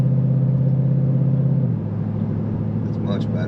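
A GM car's engine under acceleration, a loud close-up rumble from inside the cabin that drops in pitch at a gear shift partway through.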